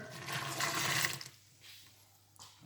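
Water is poured from above into a mixing bowl of Chelsea bun dough with flour and yeast, a steady splashing rush for about a second that then tapers off to quiet.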